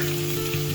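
Capsicum dropped into hot oil already holding asafoetida, sesame seeds, green chilies and flaxseed for cutlets, giving a steady close sizzle with a low hum underneath, continuous and unchanging over a short moment.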